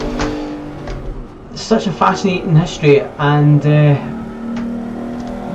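A Jaguar with a big front-mounted V12 engine hums steadily and swells as it revs, fairly close and loud, with someone talking over it.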